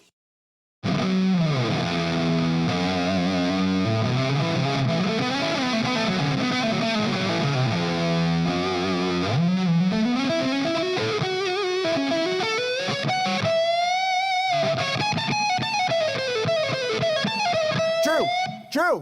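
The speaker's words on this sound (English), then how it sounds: "Curious Crew, our own sound engineer, Drew, who plays a pretty good guitar." A heavily distorted electric guitar plays a continuous jam for nearly twenty seconds, with bending, wavering notes and a loud, sustained level from start to finish.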